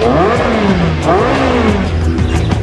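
A Ferrari 3.6-liter V8 engine revs loudly and continuously, pitch climbing and falling through repeated throttle blips, close by and filling the whole stretch.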